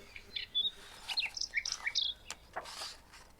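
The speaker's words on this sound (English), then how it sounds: "Let's be chitty chatty birds and chirp." Bird chirping sound effect for a read-along children's book: quick, bright tweets in short clustered bursts, close and clear, with quiet gaps between calls and no voice.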